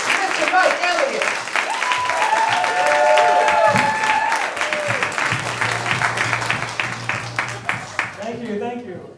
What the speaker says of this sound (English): That applause you guys were just doing sounded so good. Let's do it again.